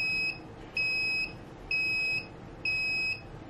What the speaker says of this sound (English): I set my timer for 30 seconds